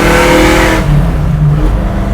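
A 1965 Ford Mustang hot rod with Black Widow exhaust revs hard and close, a loud throaty burst that drops back to a rumbling idle partway through.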